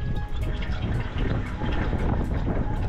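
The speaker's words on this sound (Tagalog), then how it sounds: "Nananapak ang hangin dito." Strong wind buffeting on a mountain road between Bangued, Abra and Nueva Era, Ilocos Sur: steady loud roaring gusts battering the microphone, continuous and close, with no clear talking.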